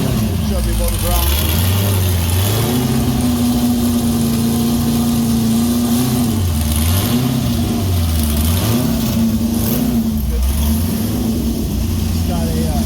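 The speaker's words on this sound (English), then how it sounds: "first car of the day is coming in" A car pulls into a fabrication shop, its engine rumbling and idling continuously up close with slight rises and dips in revs, under steady loud background noise.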